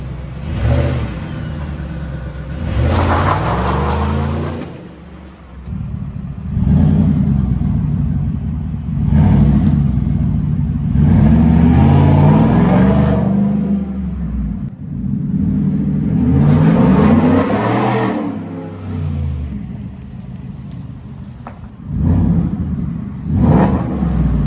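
A 2020 Ford F150 with a 5.0 Coyote V8, resonator deleted and exhaust cutout closed, accelerates hard several times, each pull a loud, close, rising exhaust roar that climbs in pitch before dropping back between runs.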